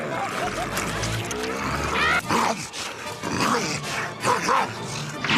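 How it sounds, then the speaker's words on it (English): A small cartoon pet barks like a guard dog, its yaps rising over a dense, noisy mix of wild animal commotion that carries on steadily throughout. "Looks like Spot could make an alright guard dog after all"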